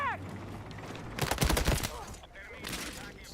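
Rapid bursts of submachine gun fire in the Battlefield 6 video game, a quick rattling volley in the middle amid other battle noise and game sounds.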